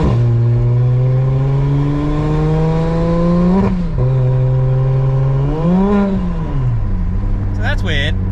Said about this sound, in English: So that's weird, that's DCT slipping.